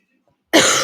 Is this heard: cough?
yes